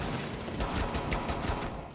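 Gunfire in Rainbow Six, a fast run of evenly spaced shots like an automatic weapon, steady and fairly quiet, with no talk over it.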